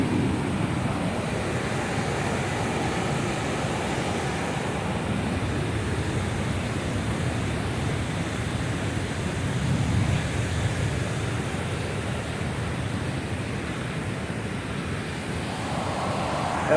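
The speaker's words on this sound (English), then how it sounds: "That water's just flowing out of there." Water pours out steadily near a waterfall on a hiking ridge, a continuous broadband rush that stays loud and even throughout with no voices.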